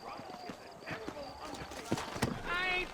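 Horse hooves clip-clop steadily in the Red Dead Redemption game's New Austin, with an occasional whinny, while someone talks over the trotting.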